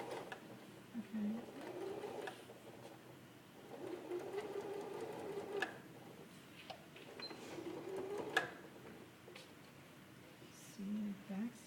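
Sewing machine backstitching a waistband seam, its quiet whirring stitch bursts coming in short stretches with pauses between, while a person talks over the machine.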